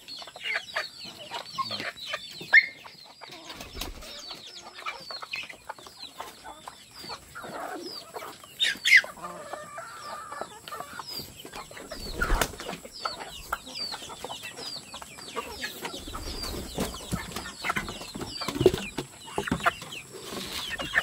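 Flock of chickens clucking busily, with bursts of wing flapping and scattered louder squawks, close and continuous, and no talking over them.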